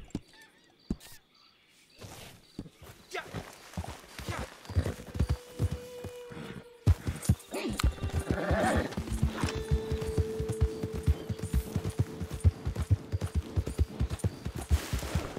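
Horse hooves clip-clop in the video game Red Dead Online, sparse at first and then settling into a steady, close, rhythmic trot that continues to the end.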